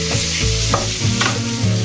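Butter melts in a pan with shrimp, lemon zest and a little chili, giving a loud, close sizzle with crackling bursts and scraping as the pan contents are moved about.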